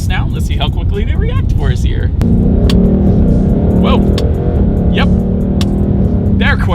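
A 2020 Ford Mustang GT accelerating with its paddle shifters, the engine rising to a steady loud drone as it pulls, with someone talking over it.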